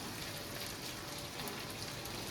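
Capsicum and green chilies frying in a pan, a faint, steady crackling sizzle with no pauses.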